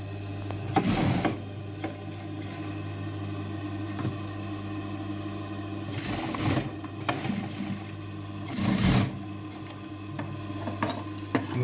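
A sewing machine runs along the edge of a jeans pocket with a steady mechanical whir and rattle, swelling in a few louder stretches before easing back to its continuous hum.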